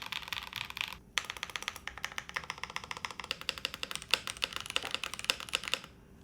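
Mechanical keyboard with tactile switches typed on rapidly, a dense run of crisp clacking keystrokes up close with occasional heavier spacebar thocks, alone without voices.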